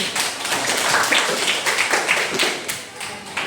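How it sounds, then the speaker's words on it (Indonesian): A group claps together in a classroom-style session, steady scattered hand claps forming a continuous, moderately loud patter that runs throughout without a break. "boleh tepuk tangan untuk semuanya"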